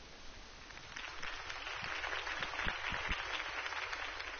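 Steady crowd applause, a dense wash of many hands clapping, holding at a moderate level throughout with a few sharper claps standing out.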